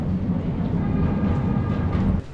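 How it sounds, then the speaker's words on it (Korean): A train in Portugal runs with a steady low rumble and rolling noise throughout, continuous and fairly close, cutting off sharply at the end. "기차."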